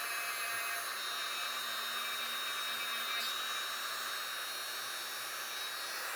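A rotary tool polishing a Glock trigger part gives off a steady, high-pitched whine with a constant drone, close and continuous throughout and with no talking.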